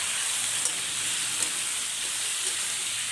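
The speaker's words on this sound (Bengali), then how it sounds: "পেঁপেটার সঙ্গে সমস্ত মশলা ভালো করে একটু কষিয়ে নিচ্ছি" Papaya pieces being sautéed with spices in a pan for a Bengali papaya-and-prawn dish, giving a steady close hiss of frying that runs unbroken throughout, with a few faint clinks of stirring.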